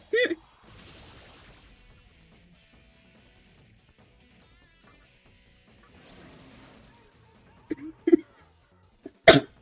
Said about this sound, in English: Now that I realized I was coughing, I'm like, oh my gosh, that was probably really freaking loud.